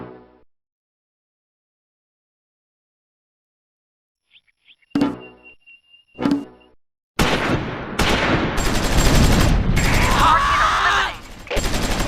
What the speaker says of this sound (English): German infantry in the woods come under crossfire